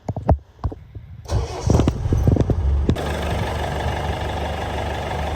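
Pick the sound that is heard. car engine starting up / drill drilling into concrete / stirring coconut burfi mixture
car engine starting up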